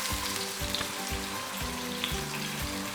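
Onions frying in a pan until golden brown, a steady close sizzle with soft crackles and faint stirring scrapes, no voices.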